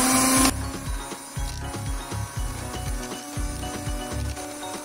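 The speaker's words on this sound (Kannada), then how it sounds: "ಇವಾಗ ಇದನ್ನ ಚೆನ್ನಾಗಿ ಬೀಟ್ ಮಾಡ್ಕೋಬೇಕು." Ghee and powdered sugar are beaten in a bowl for jeera biscuit dough, producing close, rhythmic scraping strokes roughly twice a second that repeat evenly throughout.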